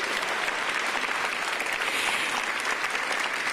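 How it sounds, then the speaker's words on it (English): A crowd at an outdoor press briefing gives steady, dense applause for an inner-city youth orchestra, continuous even clapping with no voices over it. "Let's give another round of applause for these talented youth"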